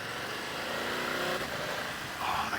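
A BMW F900 GS motorcycle's engine and gearbox while riding, a fairly faint, steady engine drone mixed with rushing wind, rising slightly near the end, with no talking.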